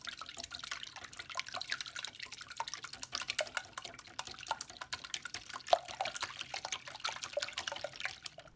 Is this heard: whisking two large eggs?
yes